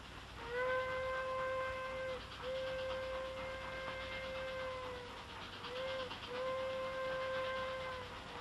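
A steam train approaching through a gap in a 1951 war western, its long whistle sounding in several sustained blasts with short breaks between them over a steady, fairly distant rumble, with no talk.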